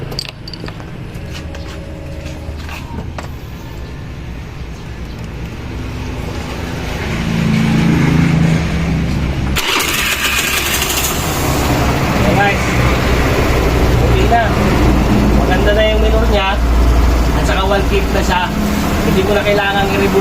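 A Suzuki Burgman Street 125 scooter engine with an idle fault sputters and catches partway through, then runs at a steady idle, with a voice talking over it throughout.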